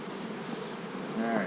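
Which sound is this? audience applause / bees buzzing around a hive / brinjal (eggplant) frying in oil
bees buzzing around a hive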